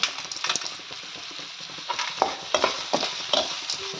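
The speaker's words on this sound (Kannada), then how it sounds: "ಚೆನ್ನಾಗಿ ಫ್ರೈ ಮಾಡ್ಕೋಬೇಕು ಫ್ರೈ ಮಾಡ್ಕೊಳ್ತಾ ಇದ್ದಾನೆ" Turmeric and salt fry in a pan while being stirred, with a steady soft sizzle under repeated scraping strokes of a utensil, close and with no talking.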